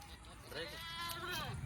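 Goat bleating at a Bakra Eid livestock sale, one long wavering bleat close by, with a voice talking faintly underneath.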